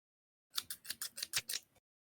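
Scissors being played with snip quickly seven or eight times in a short, even burst of crisp metallic clicks, close and fairly soft, then stop.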